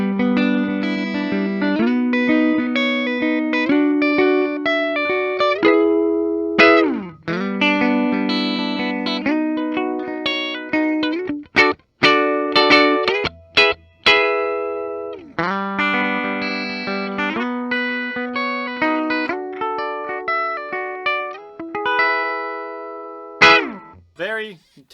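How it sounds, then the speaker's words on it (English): A Gibson ES-355 baritone electric guitar, a 1960-style Noel Gallagher model, plays clean chords and single-note runs through neck, middle and bridge pickups, ringing strongly with brief pauses between phrases. "let's start off with our simple tones. Baritone's just on your regular position. We'll do neck, middle, and bridge before we get too fancy."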